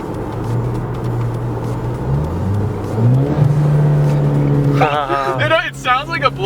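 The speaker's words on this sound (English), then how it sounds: "like a blow-off valve when you drop a gear in like low RPMs or high RPMs" A Mustang with a 3-inch turboback exhaust drones and revs up steadily, then a fluttering turbo blow-off chatter follows as a gear is dropped, with a voice speaking over the end.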